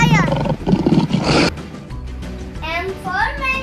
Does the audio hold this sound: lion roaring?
yes